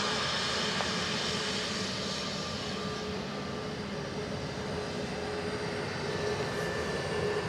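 A Ryanair jet lands on runway 28 left at Dublin Airport, a continuous loud engine roar with broad rushing noise, steady throughout.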